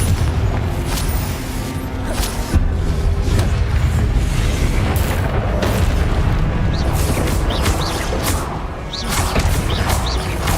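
Confringo fire-spell explosions in Hogwarts Legacy boom repeatedly over dense, loud combat noise, with deep rumbling impacts and crackling bursts layered throughout.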